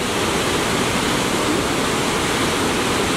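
Waterfall in a canyon at Sainte-Anne-de-Beaupré, Québec, roaring as a loud, steady broadband wash of falling water that fills the whole clip without a break.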